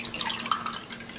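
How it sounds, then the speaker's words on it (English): Tap water running into a cup, a brief close trickle with a light drip, filling toward about eight ounces, with no voices. "you grab a cup of water, fill it all the way up, about 8 ounces,"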